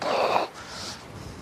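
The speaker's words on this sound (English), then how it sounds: "it's windy down here for sure" Wind gusts outdoors near a Starship launch site, a strong breathy rush that swells loudly at first, then drops back to a softer, steady blowing.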